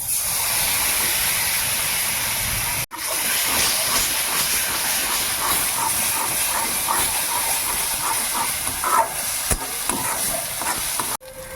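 Spices and chopped tomato sizzle and hiss steadily in a hot pan while a fish curry with pangas and tengra cooks in a village kitchen. The sound is close and continuous, with brief breaks and no talking.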